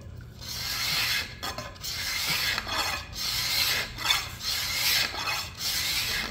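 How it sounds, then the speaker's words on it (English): A prototype bowyer scraper drawn across wood lifts thick shavings, giving close, raspy scraping strokes in irregular repeated pulls with short pauses and no talking. "You get some nice thick scrapings like that."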